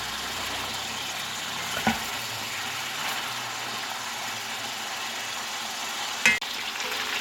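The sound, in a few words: chicken frying in a pan for stew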